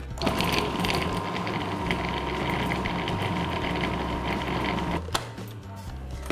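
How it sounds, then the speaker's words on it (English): A food processor whirs steadily as it blends icing sugar and soft unsalted butter into a smooth paste, a continuous close motor drone with a brief clunk near the end. "just whack the lid on and just process that until it's all smooth"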